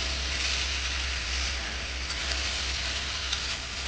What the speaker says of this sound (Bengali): এবার একটু নেড়ে ভেজে ভালো করে ভাজবে মশলাগুলোকে